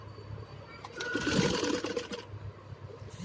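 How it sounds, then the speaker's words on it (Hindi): A sewing machine stitches net fabric for a designer blouse. Its fast running whir swells louder through the middle before easing back, heard up close with no voices. "इस तरह से हमें स्टिचिंग लेनी है। इसकी 2 सिलाई लेनी होगी आपको"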